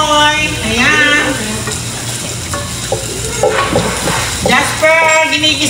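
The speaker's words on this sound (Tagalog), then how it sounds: "Jasper, ginigisa ko na yung caldereta mo." Kaldereta sautéing in a pan during a live home cooking session, with a steady sizzle and scraping stir strokes running underneath people talking throughout.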